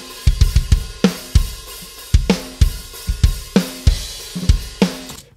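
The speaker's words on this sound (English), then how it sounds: "And so we moved on to the third snare, which was the Charlie Benante snare," Charlie Benante signature snare drum struck alone in a metal drumming session, giving a sequence of sharp, loud hits in uneven groups with short ringing decays and gaps of silence between them.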